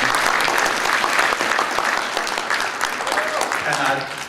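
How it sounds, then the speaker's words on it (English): Audience members at a high school marching band's fall scholarship concert clap in dense, sustained applause, with a voice briefly audible near the end as the clapping continues. "let's applaud her tonight"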